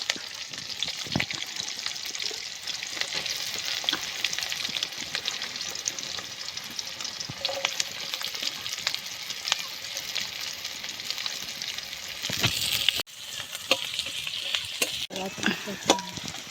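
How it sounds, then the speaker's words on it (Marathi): Onion, garlic and chili fry and sizzle in a pan outdoors by a river, with steady close crackling and occasional stirring scrapes under faint background voices. "त्याच्यामध्ये फ्राय होते जरा. टाक सगळा कांदा, लसूण मिरची सगळं एकदम टाकून दे."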